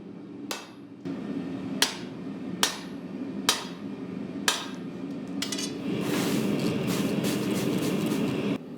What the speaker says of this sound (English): I took it over to my hot cut hardy tool and cut off around 1/2 inch of material